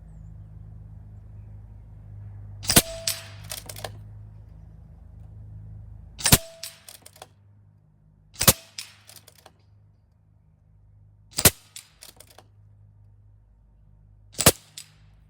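Air Venturi Avenger air rifle firing at steel gongs 50 yards downrange, five separate sharp shots spaced a few seconds apart, each followed by a faint metallic ring from the distant target over a low outdoor background hum.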